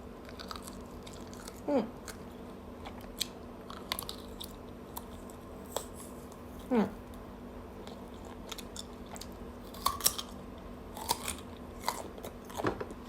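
Crunchy squid bitten and chewed close to the mic: a few sharp, loud crunching bites spaced several seconds apart, with smaller crackling chews in between over a faint hum.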